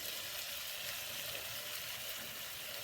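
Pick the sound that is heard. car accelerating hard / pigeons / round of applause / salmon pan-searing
salmon pan-searing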